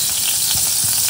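Cumin seeds sizzle steadily in hot ghee, a continuous close crackling hiss with no talk over it.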